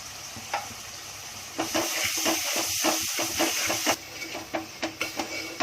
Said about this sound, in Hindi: मसाले को मैंने अच्छे से भून ली।